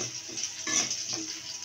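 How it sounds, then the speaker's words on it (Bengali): Garlic slices sizzle and fry in a pan of leftover oil, a steady close crackle with some stirring. "আমি এখন অবশিষ্ট তেলের মধ্যে কয়েকটা রসুনের ফালি আমি দিচ্ছি, তেলে একটু ভেজে নিব।"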